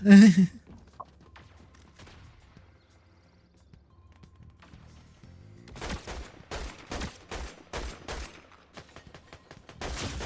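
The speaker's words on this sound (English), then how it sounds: "I hear the gunshots." A burst of rapid gunfire in the video game Fortnite comes in quick repeated cracks in the second half, after a quiet stretch with faint scattered sounds, fairly distant and compressed.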